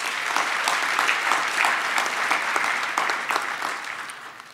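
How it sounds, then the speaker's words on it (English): A graduation ceremony audience at VUT Secunda Campus claps in a sustained, loud round of applause that holds steady and then gradually tapers off at the end. "Can you please give them a big round of applause?"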